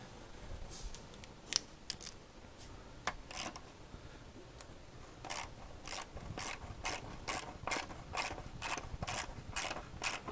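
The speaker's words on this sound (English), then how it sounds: "I'm using a hand wrench because these bolts, while they are loose and they come loose, I don't want to risk breaking them" A hand wrench ratchets away at the catalytic converter bolts on an Audi Q5, giving off a run of sharp, close clicks that start out sparse and irregular and then settle into a steady, quick rhythm with no talking.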